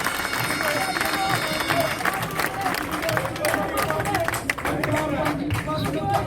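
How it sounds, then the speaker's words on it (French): A crowd at a formal gathering honouring a president claps in dense, continuous applause with scattered sharper claps, under a murmur of voices and some talk. "Encore des applaudissements pour le président Mamadou Diao, dit El Haj Mamboy Diao."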